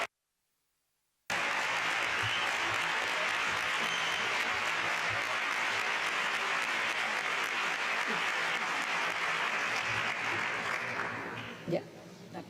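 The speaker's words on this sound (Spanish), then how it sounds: "muchas gracias por este caluroso aplauso" Warm, sustained applause from an audience welcoming a speaker at a forum on gender violence, steady dense clapping that begins after a moment of silence and fades near the end.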